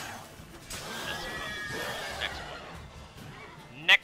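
A horse whinnies in The Witcher 3: Wild Hunt against a murmur of game sounds, followed by a sharp thud at the end.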